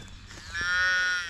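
A Murray Grey cross calf, born the day before, lets out a single loud, drawn-out moo that swells and holds near the end, close to the listener on a farm.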